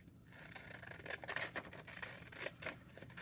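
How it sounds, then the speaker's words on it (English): Scissors cut a rectangle out of paper with continuous close, quiet snipping and rustling, a soft rasping texture with small crisp bursts and no talking. "So again, taking my scissors,"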